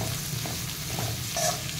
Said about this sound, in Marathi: शिमला मिरची पण परतून झालेली आहे, त्याच्यामध्ये आता हे स्वीट कॉर्न आणि फरसबी घालूयात।